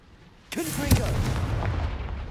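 A Confringo blasting spell cast in the video game Hogwarts Legacy, a sudden booming burst followed by a sustained crackling, rumbling rush that holds loud for a couple of seconds.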